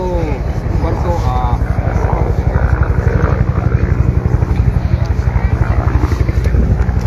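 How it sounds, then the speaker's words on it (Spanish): A police helicopter, the number 2 unit, draws near over the municipality of Comitancillo, its rotor thudding in a fast, loud, rhythmic pulse that runs throughout while people talk over it. "ya el helicóptero número 2 también ya se viene acercando"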